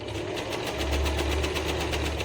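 An Usha Janome DLX sewing machine stitching, a close, steady mechanical whir with a fast regular pulse of the needle throughout.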